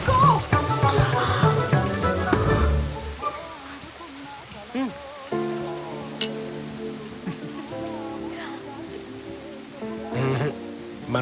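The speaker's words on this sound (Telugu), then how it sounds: "Oh, it's raining." Steady rain falls at a roadside bus stop, a continuous patter running beneath people talking throughout.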